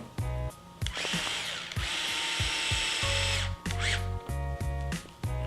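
A power drill drives screws into a 1.9-inch bead-lock crawler wheel in short bursts, with a loud whir and rising pitch, ratcheting clicks and brief pauses between each close-up run.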